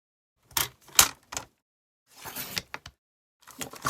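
Paper being cut in half for a small folded craft piece: several short crisp snips and cuts in uneven bursts separated by silence, close by and fairly quiet.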